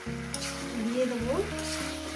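Vegetables for a chorchori sizzle in a pan as they are stirred, a continuous frying hiss under a sustained tonal drone, with a brief scrape midway.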